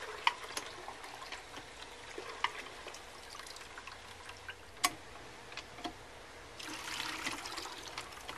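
Water running from the spigot of an off-grid electric well pump, a faint steady trickle and splash with occasional sharp clicks and knocks, the flow growing a little stronger near the end.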